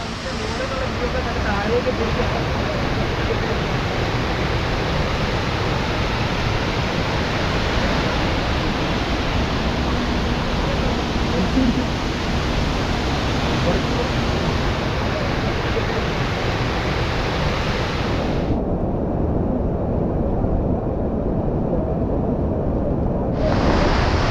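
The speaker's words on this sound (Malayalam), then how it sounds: "ഇതാണ് വലിയ വെള്ളച്ചാട്ടം കേട്ടോ. ഭയങ്കര ഹൈറ്റിൽ നിന്ന് വെള്ളം വീണു." A loud, constant roar of a large, very tall waterfall in Idukki, Kerala, heard up close in spray, filling the whole stretch, dense and unbroken.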